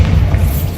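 A loud, close, rumbling boom from a Bombarda blasting spell explosion in the video game Hogwarts Legacy, filling a brief moment on its own.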